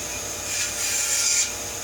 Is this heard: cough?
no